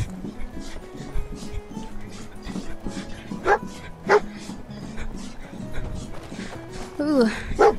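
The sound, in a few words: dog Dogmeat barking in video game Fallout 4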